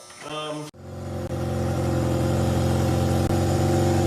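A 2024 Nova car engine runs steadily after a brief starting burst, a continuous loud mid-pitched idle with a rhythmic pulse and a couple of short dips, no talk over it.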